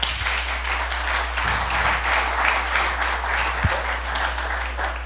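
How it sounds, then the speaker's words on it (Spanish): Congregation applauding in a church service, a sustained bed of clapping across the whole stretch with a low steady hum underneath. "Vamos a darle un aplauso al Señor."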